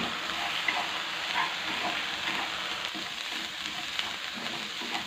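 Small shrimp stir-fried in lard, a steady dense sizzle and crackle filling the whole stretch without any talk.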